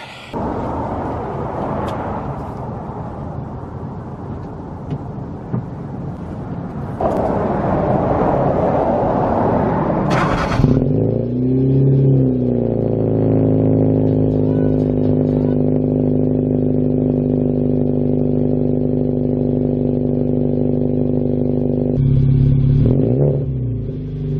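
A car with an ARC Performance catback exhaust revs loudly with a deep, throaty exhaust note, holding a steady drone for several seconds after a sharp rise, close by.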